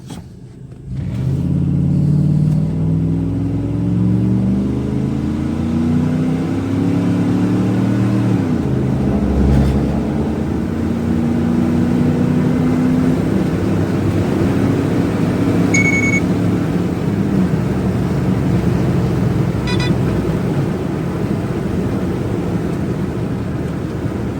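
A 5.9 Magnum truck engine roars through a 0 to 60 time trial before an intake swap, revving up through several gear shifts with a steady loud rumble that stays close and continuous throughout.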